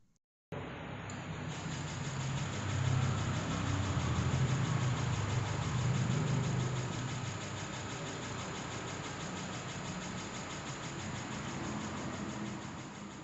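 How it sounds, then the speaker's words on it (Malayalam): A 2022 Ampere REO electric scooter runs steadily, giving a constant broadband motor whir with a faint tonal whine that holds at an even level throughout. "ഇനി വണ്ടിയുടെ സൗണ്ട് ഞാനൊന്ന് കേൾപ്പിച്ചു തരാം"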